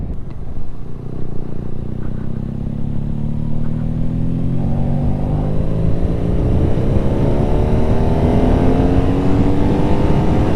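A BMW R nineT motorcycle engine pulls hard while riding, its revs climbing steadily through a long acceleration. The drone is loud and close, with wind rumble underneath.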